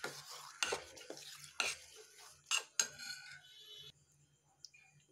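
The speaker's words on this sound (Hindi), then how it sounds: "घुमाते हुए इसको बिल्कुल अच्छे से मिक्स कर लेंगे" Repeated scraping and clinking of a utensil stirring potato papad batter in a pot, several irregular strokes close by, fading to near quiet at the end.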